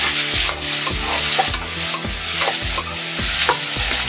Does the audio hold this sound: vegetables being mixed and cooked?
yes